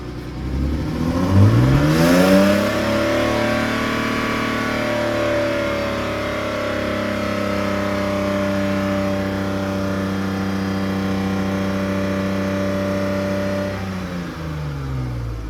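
A car engine revs indoors in an enclosed space, climbing quickly to about 4000 rpm and holding a steady, loud droning tone for over ten seconds before dropping back to idle.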